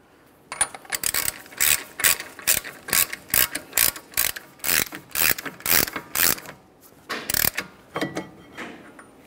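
Hand ratchet tightening the front axle nut on a 2011-2020 Toyota Sienna during a CV axle replacement, a steady run of close, sharp clicking strokes with brief pauses, no talking.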